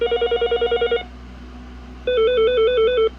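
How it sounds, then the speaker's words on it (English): Mitel 5324 IP phone plays a fast-paced electronic ringtone: a rapid warbling trill for about a second, a pause, then another warbling burst at a different pitch, loud, close and clean with no voices. "These faster paced ringtones are the odd numbers."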